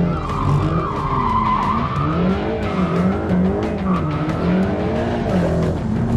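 A Mercedes-AMG GT drifts with sustained, wavering tire squeal over a revving engine, the screech rising and falling continuously and loudly throughout.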